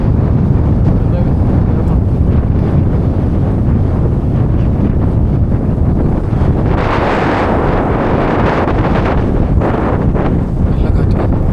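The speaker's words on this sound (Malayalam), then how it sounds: "നല്ല കാറ്റ്." Strong wind roars across the microphone during a rock climb up Kondakettimala, a loud continuous rumble that swells in the middle with a hissing gust. A voice may speak faintly beneath it.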